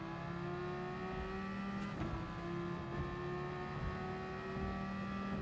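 A car doing burnouts in Gran Turismo Sport, a steady engine drone with a constant pitch running throughout, with a brief harsher burst near the middle.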